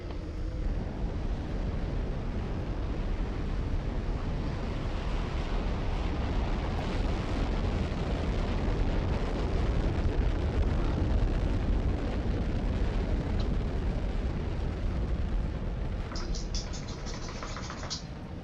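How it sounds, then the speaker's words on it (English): A rocket launching in the video game Automation Empire, giving a loud, steady roar that rumbles on without a break for the whole stretch, with a faint voice now and then beneath it. "when the rocket's loaded fully, it'll launch"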